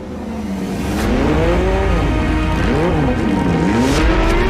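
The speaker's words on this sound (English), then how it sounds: "But the big key in the back is the 6-cylinder Boxer with its unmistakable sound." A 2021 Porsche 911 GT3's six-cylinder boxer engine sounds loud and close, its pitch rising and falling repeatedly as it revs and drives hard, with a faint squeal of tires.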